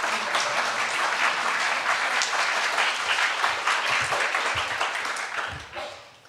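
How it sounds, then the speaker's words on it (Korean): A church congregation applauds a pastor at a Korean-language Sunday service with dense, sustained clapping from many hands, fading out at the end. "오늘 목사님 말씀을 기대하면서 우리 박수로 환영하겠습니다."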